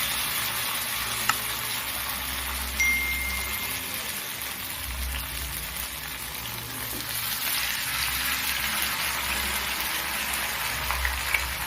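Cauliflower frying in a pan over a low flame, giving a steady, close sizzle with soft crackles throughout and no voices.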